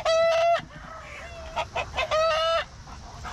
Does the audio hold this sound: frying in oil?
no